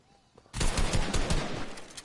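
Gunfire in a PS4 video game erupts after a short quiet lead-in: a dense, sustained volley of rapid shots at loud, steady level, ending with a sharp final burst.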